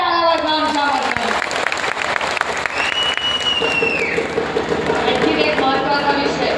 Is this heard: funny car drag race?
no